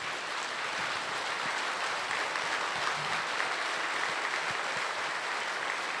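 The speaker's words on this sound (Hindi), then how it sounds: "एक बार जोरदार तालियां खड़े होकर" Sustained standing ovation from an audience at a Brahma Kumaris cultural evening, dense steady clapping filling the hall throughout, loud and unbroken with no talk over it.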